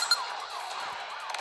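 A police car siren in the video game Smashy Road: Arena wails briefly in a rising and falling tone, moderately loud with game noise behind it.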